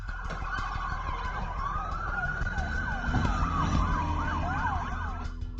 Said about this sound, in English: the sirens of several patrol cars woke up the residents of Lonoc County